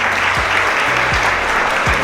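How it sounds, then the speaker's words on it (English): Steady, dense applause from an audience at a Black History Month leadership brunch, honoring guest speakers one by one; the clapping stays loud and continuous throughout, with low tonal sounds underneath. "Give a round of applause for Brother Kylon."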